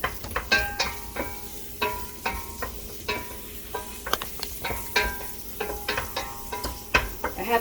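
An egg frying in a pan, with a steady sizzle broken by frequent sharp clinks and scrapes of a utensil stirring, close and fairly loud, no talking.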